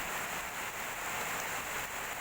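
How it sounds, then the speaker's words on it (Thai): Heavy rain falls steadily on a rural home, an even, dense hiss that fills the space without pause, fairly quiet and with no one talking. "ดูสถานการณ์แล้วน่าจะหนักครับ น่าจะตกนานด้วยครับผม"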